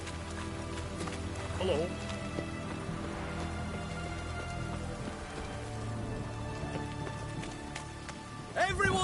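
Steady rainfall in The Witcher 3 pattering on the ground as a constant backdrop, with game voices, a brief greeting and occasional hoofbeats and effects over it.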